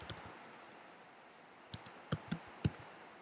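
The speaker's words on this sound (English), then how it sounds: "So if we just start typing," A computer keyboard is typed on to enter a site search, giving sparse, faint, clicky keystrokes with a few louder taps toward the end over quiet room hiss.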